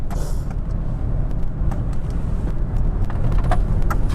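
A car cruises on a highway at about 78 miles an hour with active cruise control engaged, giving a steady, loud rumble of road and engine noise with faint ticks over it throughout.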